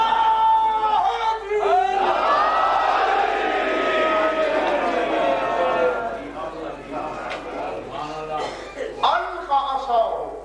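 A large crowd at a 1999 religious majlis in Multan shouts a religious slogan in unison, loud massed voices swelling through most of the stretch, easing, then rising again in a second burst near the end.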